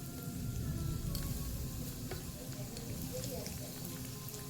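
KFC-style chicken pieces frying in hot oil, giving a quiet, continuous crackling sizzle with occasional small pops.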